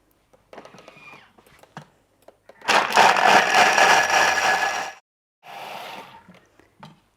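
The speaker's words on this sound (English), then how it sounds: "If you have a regular blender, just blend it up on the highest speed until it's nice and smooth." A regular blender whirs at its highest speed through vegan hollandaise sauce, a loud sustained roar of about two seconds, then a shorter burst after a pause, with lighter clattering before it.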